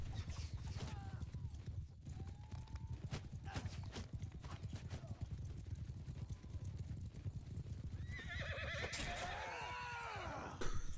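Cavalry horses in Bannerlord gallop with a dense, continuous drumming of hooves, while loud neighs and whinnies rise over it toward the end and a voice talks briefly.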